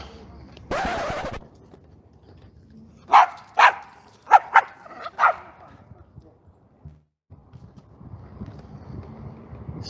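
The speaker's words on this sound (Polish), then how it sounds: "Ja pierdolę, po co im te psy?" A dog barks in a quick series of about five sharp, close barks outdoors, preceded by a burst of wind or rustling noise, with quieter background sounds afterward.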